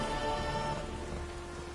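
A dense, steady hiss of heavy rain pours down continuously in the video game The Witcher 3: Wild Hunt, moderately loud and even throughout, with no talking.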